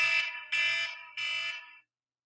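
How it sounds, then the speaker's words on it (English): An alarm sounds three long, shrill electronic tones of a bit under half a second each, separated by brief gaps, then cuts to silence. "Alarm just went off."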